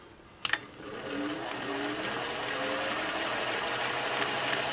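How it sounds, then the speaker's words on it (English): A Singer 401A sewing machine starts with a brief clatter, then runs at a steady, even mechanical whir that builds slightly and continues to the end. "Start your machine running."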